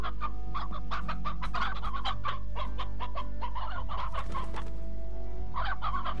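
Chickens in the video game Slime Rancher cluck and chatter in quick, busy bursts over a steady low game hum, close and fairly loud, with a short pause before the clucking resumes.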